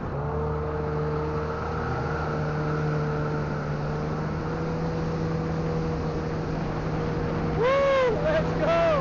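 Boat engine drones steadily at a constant pitch with water rush beneath, then near the end rises sharply as the throttle is opened fully, with a brief rising whine over the roar.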